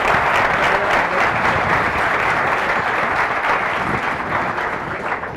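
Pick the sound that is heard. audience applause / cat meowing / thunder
audience applause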